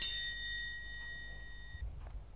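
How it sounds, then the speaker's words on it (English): A triangle struck in a Daniel Tiger's Neighborhood Christmas video game gives one bright metallic ding that rings steadily, then cuts off sharply, with no talk over it. "Triangle."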